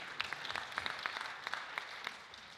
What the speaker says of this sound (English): Let's give all Sam a round of applause.